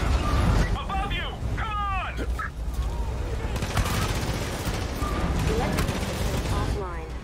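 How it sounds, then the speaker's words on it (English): Gunfire in the Far Cry 5 video game: dense, continuous shooting and combat noise with bursts of fire throughout, while excited voices talk over the chaos. "I was getting shot at by everybody up there"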